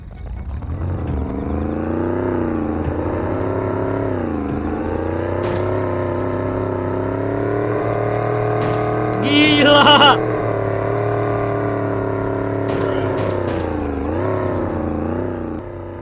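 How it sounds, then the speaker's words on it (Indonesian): A McLaren car in Free Fire MAX revs its engine continuously, a steady mid-pitched drone rising and falling with throttle changes, close and prominent throughout, with a brief squealing chirp midway. "Suara mobil McLaren, coba ya suaranya gimana nih."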